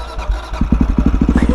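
A single-cylinder CCM motorcycle engine thumping nearby, its pulses speeding up into a rapid, even throbbing as the throttle opens.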